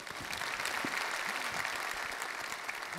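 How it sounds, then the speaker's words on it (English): Audience applause at a corporate keynote conference session, fairly faint and distant, steady dense clapping throughout with a few louder individual claps standing out. "give her a big round of applause"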